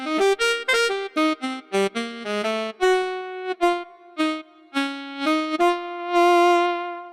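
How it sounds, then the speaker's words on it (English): A digital saxophone voice from a MIDI sound module plays a lively melodic phrase of short, clean, reedy notes, ending on a longer held tone, sounding dry and close with no talking. "their digital saxophones still sound like this."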